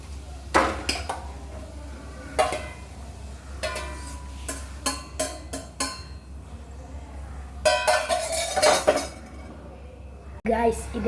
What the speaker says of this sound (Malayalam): ഞങ്ങൾക്ക് ഓഫ് ചെയ്ത് ഇതിനെ ഒരു പ്ലേറ്റിലോട്ട് ഇടാം